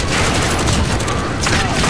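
Sustained, loud automatic fire from a Grau 5.56 assault rifle in Call of Duty: Modern Warfare blasts continuously and close up, with shots blurring into a dense roar.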